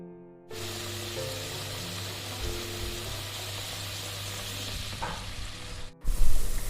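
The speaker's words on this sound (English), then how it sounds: "now I am going to add betel leaf in it" Betel leaves dropped into hot homemade ghee over a gas flame give a loud, steady sizzle and frying hiss, with a brief splash and a sharper burst of crackling near the end.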